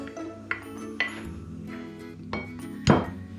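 Melted chocolate mixture being stirred into brownie batter in a bowl, a few sharp clinks of a utensil against the bowl at irregular intervals, the last one loudest, over a faint background hum.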